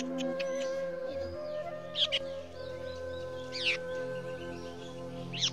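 A fallen baby bird chick calling, with thin, high chirps in short bursts spaced a second or two apart over a steady low hum, close and fairly faint.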